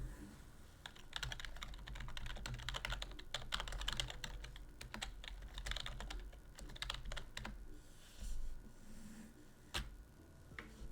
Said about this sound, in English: I'm gonna just type in here.